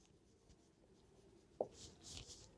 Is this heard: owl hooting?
no